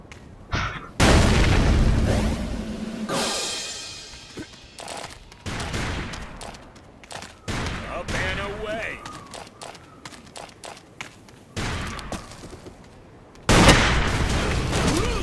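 Sniper shots and bursts of rapid gunfire and booms from the online shooter Ace of Spades, loud blasts breaking up stretches of quieter game noise and footsteps, while a player talks between the shots.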